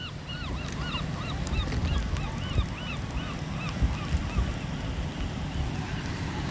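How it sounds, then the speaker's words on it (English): Many seagulls calling by the shore as the tide rises, repeated overlapping cries above a steady roar of surf and wind. "Look at these seagulls over here."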